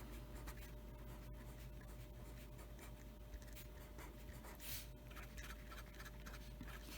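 A pen scratches across paper while a second-grade math word problem is drawn and marked off, making faint, close scribbling strokes over a low steady hum.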